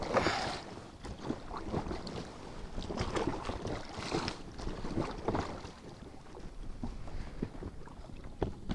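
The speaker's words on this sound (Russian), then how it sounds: "Да, ветерок некомфортный." Strong, gusty wind buffets across open water around a small fishing boat out pike fishing in stormy weather, a loud, continuous rushing roar with shifting surges and some microphone wind noise, no speech.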